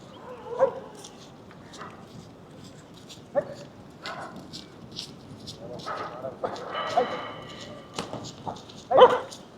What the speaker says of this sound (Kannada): 10-15 ನಾಯಿ ಇದ್ದಾವೆ ಅಯ್ಯಪ್ಪ ಹೆಂಗ್ ಕಿರ್ಚ್ಕೊಂಬತ್ತಾವ ನೋಡಪ್ಪ